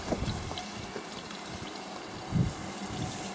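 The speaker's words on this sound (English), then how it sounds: "we got a racing snowmobile in the background. That's the noise that you hear." A racing snowmobile engine drones steadily in the distance outside a rustic log cabin deer-hunting camp, a low rumble under wind-like outdoor noise with no talking.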